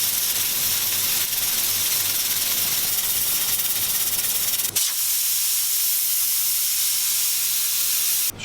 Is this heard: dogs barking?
no